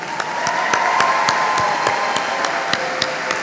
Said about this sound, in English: Let us have another round of applause